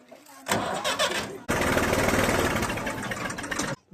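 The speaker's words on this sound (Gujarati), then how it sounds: "આ ટ્રેક્ટર આગળ આપણે હાંકવાનું છે" A tractor engine cranks for about a second, then catches and runs loud and close at a steady, rough idle before cutting off near the end.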